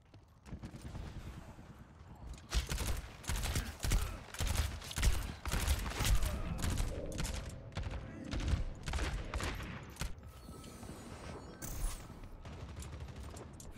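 Soldier's rapid gunfire in Overwatch: a dense run of quick, loud shots through the middle of the clip, with quieter game sounds on either side.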